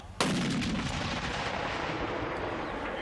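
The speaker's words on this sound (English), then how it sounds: "This is a reproduction 8-inch siege mortar. There's a lot of concussion off a large gun like this." A reproduction 8-inch siege mortar fires once with a sudden, heavy concussive boom, followed by a long rumbling roar and outdoor echo that fills the rest of the clip.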